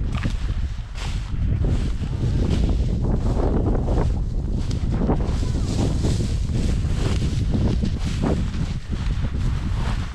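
Strong wind roars steadily across an outdoor microphone at a pheasant shoot, a loud continuous buffeting with gusts throughout.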